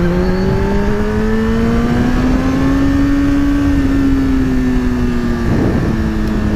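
A new sport motorcycle replacing a Honda CBR1000RR revs hard and loud, its engine note climbing steadily toward a high redline, then easing slightly, with the dense roar continuous throughout and no voices.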